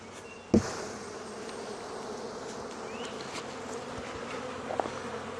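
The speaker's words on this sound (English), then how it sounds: "So I'm going to knock the bees off." Honeybees buzz in a dense continuous hum as they are knocked off a hive board, a sharp knock at the start and another faint thump later, close and steady.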